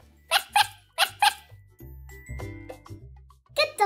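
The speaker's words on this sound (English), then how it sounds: "Good doggy." A pet dog barks in a series of sharp, loud barks at close range, in clusters separated by short pauses, with lower whining tones and some indoor noise between them.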